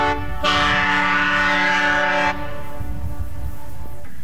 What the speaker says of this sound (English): it's got to sound like a train playing O Canada, not like a pipe organ or anything else